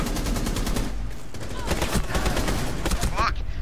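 Gunfire from a shotgun in the Rainbow Six Siege video game, loud dense bursts throughout under constant game noise, with faint voices in the mix.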